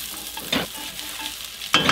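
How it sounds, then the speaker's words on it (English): Rice sauteing in a pan while being stirred, a soft sizzle broken by scraping stir strokes, with a louder scrape near the end and no talking. "we're going to saute the rice until it's light golden in color"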